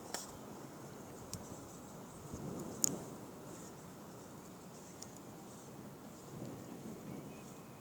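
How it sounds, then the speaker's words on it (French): Thunder rumbles through a violent storm with hail near Carpentras, Vaucluse, low rolling booms swelling twice over a faint steady hiss of rain, with one sharper crack near the start, fairly distant and quiet overall. "Le tonnerre, il est permanent, comme vous l'entendez"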